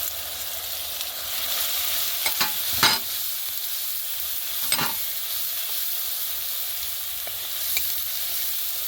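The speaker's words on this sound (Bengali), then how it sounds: "পেঁয়াজ বাটা দিয়ে দিলাম মশলাগুলো দিয়ে দিচ্ছি আস্তে" Onion paste and ground spices fry in a wok, a constant close sizzle broken by a few sharp spatula scrapes and knocks against the pan, with no one speaking.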